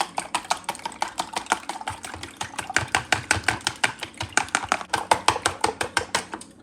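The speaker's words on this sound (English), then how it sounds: "Now we mix the egg. Mix the yellow part and the white part." Egg yolks and whites, with a pinch of salt, beaten in a bowl: a quick steady run of sharp whisking clicks against the bowl, close and fairly loud, with no talk.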